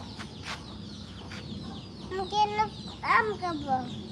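A chicken in a yard eating mango gives a few short clucks near the end, close and moderately loud, with quiet background talk.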